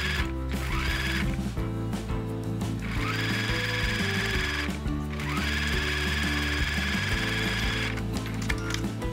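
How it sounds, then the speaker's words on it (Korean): Sewing machine topstitching a fabric patch onto the centre of a hanbok-fabric outer panel, with a loud, steady mechanical whir in bursts that pause and restart, with no talking. "위에 쭉 상침하면서 고정해 주세요"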